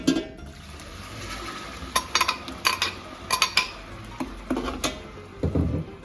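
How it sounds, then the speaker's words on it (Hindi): Ground onion paste going into a pot and being stirred for a beef paya recipe, with repeated irregular metallic clinks and scrapes of a spoon against the pot and soft wet shuffling between them. "तो अब मैं इसमें डालने लगी हूँ ये जो प्याज मैंने अभी ग्राइंड की थी वो सब मैं इसमें डाल रही हूँ"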